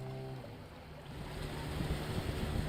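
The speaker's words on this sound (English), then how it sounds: "As the river opened up, a driver and his outboard canoe appeared." An outboard-motor canoe travels along a river in the Darien Gap, its steady low engine drone building under a broad wash of water and wind.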